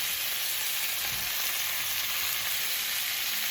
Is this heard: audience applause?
no